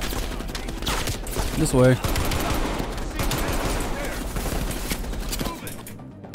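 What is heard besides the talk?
gunfire in Call of Duty Cold War video game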